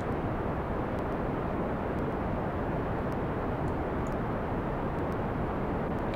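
Continuous broadband roar of a rocket engine throttling up in Kerbal Space Program, a steady, loud rumble that holds evenly throughout with no breaks.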